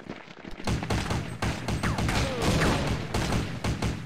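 Gunfire rattles in the top-down shooter Counter-Strike 2D, with rapid bursts of loud, sharp shots crackling in quick, uneven succession throughout and no break in the shooting.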